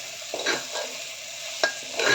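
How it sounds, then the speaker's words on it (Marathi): Boiled soya chunks being mixed with masala in a pan for soya khichdi, with repeated scraping strokes of a spoon against metal over a low sizzle, close up and wordless, one sharper clack midway. "सोयाबीनच्या वड्यांना चांगल्या प्रकारे मसाला लागेल असं व्यवस्थित मिक्स करून घ्यायचं"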